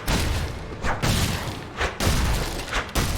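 Skill impacts from the Diablo 3 video game hit as a series of heavy, explosive booms like shotgun blasts, several bursts in quick succession over dense game noise.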